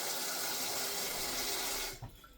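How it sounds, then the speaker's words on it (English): Water runs steadily while food is submerged in cold water during orange chicken prep in a kitchen, a loud continuous rush that cuts off near the end, followed by a few faint clinks. "for now I'm going to totally submerge it in cold water"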